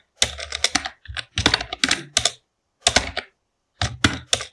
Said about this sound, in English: You simply have to write their names by typing this.